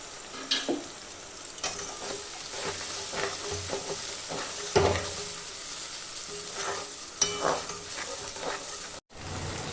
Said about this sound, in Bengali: মশলাটা এর মধ্যে দিয়ে ভালো করে কষিয়ে নেব